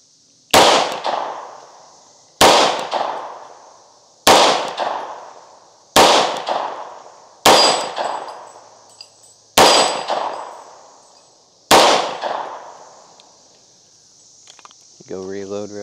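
A Tisas B9R double-stack 1911 pistol fires at a steel target outdoors, seven sharp shots at steady intervals, each with a ringing metallic clang and short decay, and a brief voice at the very end.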